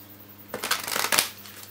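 A deck of tarot cards is shuffled close by in a quick burst of soft riffling and slapping, rising and then fading over a quiet hum.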